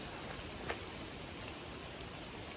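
Steady, soft hiss of rain falling in a forest at Roncesvalles, Spain, an even wash of drops with no voices, constant throughout.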